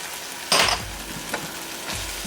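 Carrots and watercress being mixed into a hot pan of cooked filling for lettuce wraps: a sharp burst of sizzle as they land, then quieter frying with a couple of light stirring scrapes, close up.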